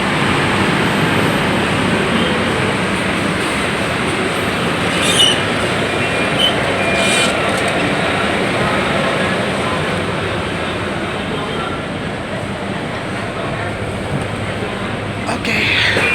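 A steady broadband rumble and road roar fills the interior of a moving Volvo TransJakarta bus on Corridor 6, continuous and loud throughout, with a few faint rattles and clicks over it.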